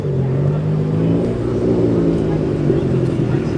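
A turbocharged car at a cars-and-coffee meet rumbles close by with a steady, throaty engine drone that holds level for a few seconds, with people talking nearby.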